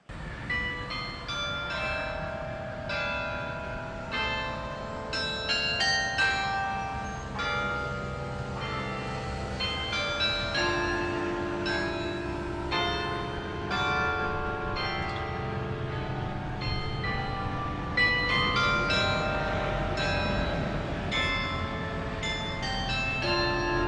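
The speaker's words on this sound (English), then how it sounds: "played the anthem, "Lift Every Voice and Sing," on the bells of Century Towers Carillon" Century Towers carillon bells ring out the anthem Lift Every Voice and Sing, a continuous melody of overlapping resonant bell tones with long sustained decays, steady and full throughout.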